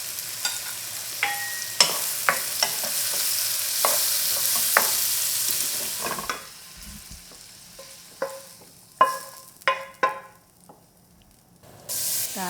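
Sesame oil heated with sesame seeds for sweet and sour crispy mushrooms, a hissing sizzle for the first half, then a quieter stretch punctuated by sharp clacks and stirring knocks of a utensil against the pan.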